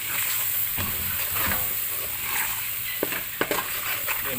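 Masala roasts in a pan for chicken samosa filling, a close continuous frying hiss with the spoon stirring and scraping in irregular strokes, a few sharper clinks toward the end.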